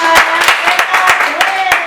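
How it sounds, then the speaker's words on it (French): A small group claps for themselves during a French Bible quiz, giving scattered, uneven claps close by while a voice keeps talking over them. "Applaudissez pour vous-même."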